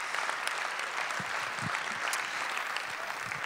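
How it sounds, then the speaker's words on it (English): Conference audience applauding a keynote guest, a steady wash of many hands clapping at moderate volume throughout, with no voices over it. "Could we please give Michael Fenbeck a hand of applause here?"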